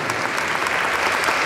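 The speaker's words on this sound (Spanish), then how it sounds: "Aplauso a la Santísima Virgen María y a este coro que cantan tan hermoso." Dense, steady applause from a church congregation during a Mass honoring the Virgin of Guadalupe, clapping for the Virgin Mary and the choir, a continuous wash of many hands throughout.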